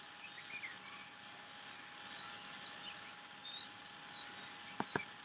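Several birds sing and chirp in sparse, high, whistled phrases at moderate distance over a hushed outdoor background with a low steady hum, ending with a couple of sharp clicks.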